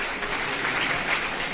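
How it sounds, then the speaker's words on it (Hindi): Audience at a traders' conference breaks into a short, dense burst of clapping, steady and fairly loud throughout with no voices over it. "एक बार जोरदार ताली बजा दीजिए"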